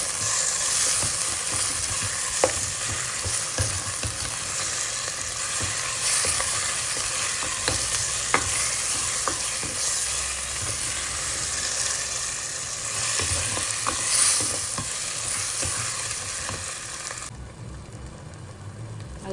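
Four tomatoes with salt sautéing in a pan for a South Indian tomato curry, giving a steady, close sizzle and hiss throughout, broken by scattered clicks and scrapes of stirring.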